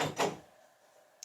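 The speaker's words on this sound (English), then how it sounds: "That's my dog trying to come into the room." A dog pushes against a closed interior door from outside, trying to get into the room, making two quick thudding knocks and rattles close by, then a faint click near the end.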